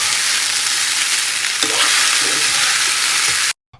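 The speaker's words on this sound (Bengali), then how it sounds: "এই সবজিগুলো এবার মিশিয়ে নিচ্ছি।" Vegetables with sago stirred in a frying pan, a loud continuous sizzle with scraping stir strokes, ending abruptly.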